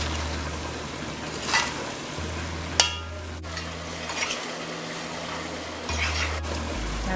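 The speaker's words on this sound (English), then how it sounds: "Now I will add the green onion." Green onion going into a pot of cassareep chicken after an hour of cooking, a steady low sizzle of frying with occasional clinks and scrapes of stirring, close and unhurried with no voice.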